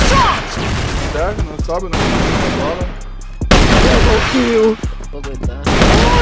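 Pistol gunshots in a video game firefight, several loud, sharp bursts close by, mixed with excited shouting from players talking over the action.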